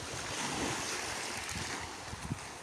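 Sea waves washing up on Southend beach, a steady broad surf roar with wind buffeting the microphone and a few louder wave surges near the end, with no voices.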